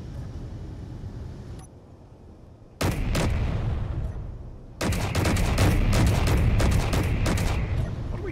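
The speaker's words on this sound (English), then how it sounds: "I just hear the shots" Bursts of gunshots in a space video game, with a short burst near the three-second mark and then a long run of rapid loud shots, over constant engine-like background noise.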